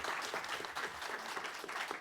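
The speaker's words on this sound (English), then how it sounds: "another round of applause for all of our panelists" Audience applause for panelists at a university town hall, a continuous wash of many hands clapping together, even and sustained at a modest, somewhat distant level.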